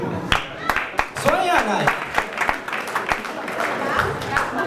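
Comedy club audience at a live stand-up show breaks into scattered applause and crowd noise, moderately loud and bursting in waves beneath the comedian's continuing speech.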